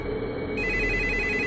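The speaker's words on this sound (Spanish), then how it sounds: "el teléfono volvió a sonar" A telephone rings with a steady electronic trill that starts partway through and continues under a low background hum, fairly close and moderately loud.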